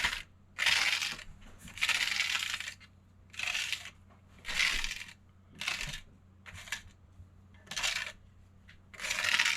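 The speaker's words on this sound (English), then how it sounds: "I'm just taking this card and cleaning the top off" A card scrapes back and forth over the tops of capsules packed with powdered wild-harvested chaga, leaving about nine rhythmic, dry, raspy strokes with short gaps between them. The sound is close-up and clear, with no talking.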